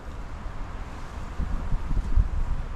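Soft, steady wind rushing outdoors with low rumbling gusts that swell toward the end; no voices.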